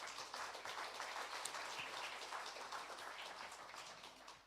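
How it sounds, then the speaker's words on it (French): A church congregation applauds during a Sunday Christmas-season service, a faint, distant wash of steady clapping that sounds like soft rain and continues evenly throughout. "Oui, tu peux applaudir"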